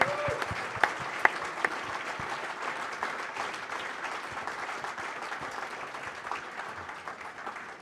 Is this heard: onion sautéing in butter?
no